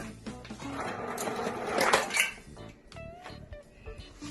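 Clattering and clinking as ice tumbles into a metal pot of boiled eggs, a busy burst of rattling knocks that peaks then settles into scattered clinks.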